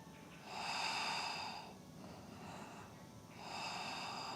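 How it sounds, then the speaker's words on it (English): Slow, deep breaths during a yoga session, two long audible inhale-exhale cycles, close and soft, with no talking. "One more deep breath."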